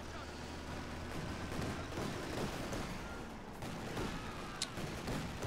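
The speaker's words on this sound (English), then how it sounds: "Let the bullets fly." Video game battle gunfire crackles through a busy, muffled din of shots and rumbling blasts, fairly faint and continuous with a few sharper cracks poking out near the end.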